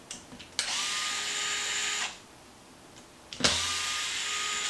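An electric 2.5mm driver spins out screws from the skid plate of a Traxxas Maxx RC truck, two close whirring bursts of about one and a half seconds each with a short pause between.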